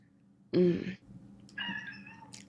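A cat meows twice, a short sharp cry followed after a pause by a longer, drawn-out meow, close by in a quiet room.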